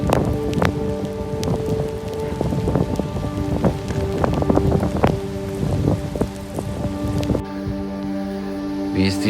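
Rain falls steadily throughout an outdoor walk, a dense patter of drops hitting surfaces along with a steady hum and scattered knocks, continuous and fairly close.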